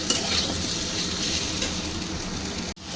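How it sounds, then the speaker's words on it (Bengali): Ridge gourd pieces fry in a pan with salt for a Bengali potato and prawn dish, producing a dense, rain-like sizzle and continuous stirring scrapes up close, cut off abruptly near the end. "আমি ঝিঙেটাও একটু এর সঙ্গে নেড়ে চেড়ে নেবো"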